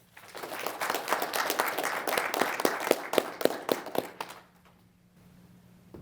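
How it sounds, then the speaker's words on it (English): Applause for graduates at a military college graduation ceremony, a room of hands clapping steadily for about four seconds before fading out to near silence with a faint low hum. "please join me in a final round of applause for all of our graduates"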